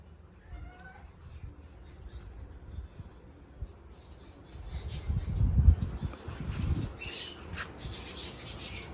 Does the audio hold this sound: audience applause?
no